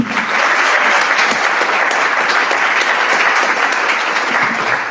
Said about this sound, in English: Let's just have a round of applause for everybody.